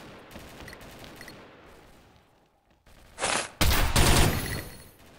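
Gunfire from the online shooter game XShot: a few soft, rapid shots first, then a lull, then loud, dense bursts of automatic fire close by near the end, with no talking.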